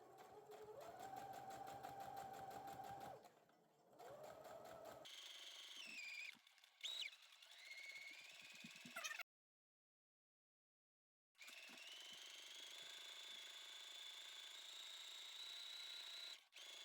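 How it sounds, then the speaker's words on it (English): A sewing machine stitches around a fabric neck support pillow in close, loud whirring runs, with starts, stops and a silent pause before a final steady stretch. "I'm going to stitch around, making sure that I go back to secure it."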